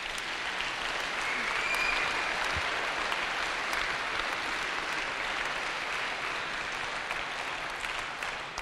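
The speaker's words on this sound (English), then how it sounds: "So I think we need to give a round of applause also for these parents." Sustained audience applause for parents at a Vespers gathering, a dense, steady wash of clapping filling the room evenly from start to finish, with faint voices underneath.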